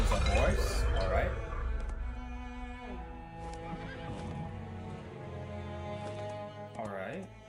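A horse in the game Identity V whinnies loudly near the start, with clip-clop hooves and light clinks behind, then a second shorter neigh near the end over steady bright game music.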